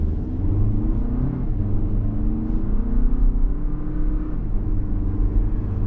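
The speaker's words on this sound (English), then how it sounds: "we're going down the road in this 2024 Highlander XLE all-wheel drive" Inside a 2024 Toyota Highlander XLE all-wheel drive cruising down the road, a steady low engine hum and road rumble with mild rising and falling whir as it accelerates.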